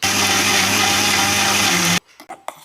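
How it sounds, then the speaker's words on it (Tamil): Mixer grinder whirring loudly and steadily as it grinds coconut and roasted gram with a little water into a fine paste, then cutting off abruptly, leaving a few faint clicks. "அரை மூடி தேங்காய், 50 கிராம் பொட்டுக்கடலை ரெண்டையும் சேர்த்து நல்லா அரைச்சி எடுத்துக்கலாம்"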